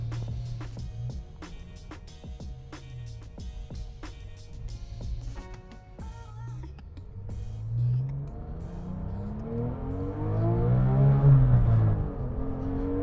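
A Porsche GT3 engine revs hard on a canyon road, its pitch climbing through rising sweeps and growing louder toward the end, with sharp clicks and knocks early on before the engine swells.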